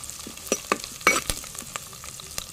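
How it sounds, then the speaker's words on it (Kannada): Onions frying in a pan as green chili and ginger go in, a steady close sizzle broken by scattered scraping and stirring clicks, with no voices. "ನೋಡಿ, ಇವಾಗ ಇಲ್ಲಿ ನೀರುಳ್ಳಿ ಫ್ರೈ ಆಗ್ತಾ ಬಂತು. ಈಗ ನಾನು ಇದಕ್ಕೆ ಕಾಯಿಮೆಣಸು ಹಾಗೂ ಶುಂಠಿಯನ್ನು ಹಾಕ್ತೇನೆ."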